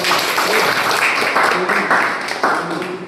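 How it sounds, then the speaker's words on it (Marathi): Loud, continuous applause from a gathered crowd at a sports competition, saluting players and spectators, with voices talking and calling underneath the sustained clapping. "कृपया या सर्वांसाठी एकदा जोरदार टाळ्या वाजवा"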